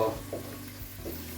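Sliced fresh ginger, about an inch's worth, frying in a pan for a potato and spinach curry: a soft, steady sizzle with a few stirring scrapes, close and fairly quiet, no talking.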